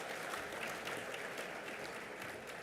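A business luncheon audience breaks into applause on cue, giving a faint, steady wash of scattered clapping heard from a distance and unbroken throughout.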